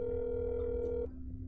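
Steady telephone dial tone in the game That's Not My Neighbor, a clear continuous hum holding for about a second before cutting off abruptly, leaving faint low background.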